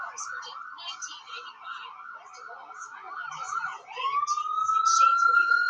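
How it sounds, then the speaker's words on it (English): An ambulance siren passes along River Road, its wailing tone rising and falling over steady traffic noise, then settling into a loud, sustained high note as the vehicle draws near. "it's an ambulance"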